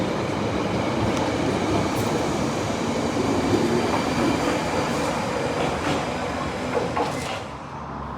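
A 1973 stock London Underground Piccadilly line train runs past on the open-air line toward Hounslow Central, a dense, loud rumble and rattle of wheels that holds steady, then eases off as it draws away.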